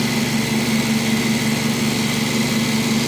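A FilterMax centrifuge spins at speed while cleaning waste vegetable oil to 1 micron, giving a loud, steady motor hum with a constant high whine and no pauses.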